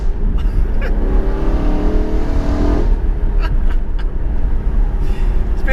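A BMW M3 fresh from a service, driven on the road, gives a loud close engine note with a rising rev that drops off sharply, then continues as steady road and engine rumble, with a few brief knocks and clicks.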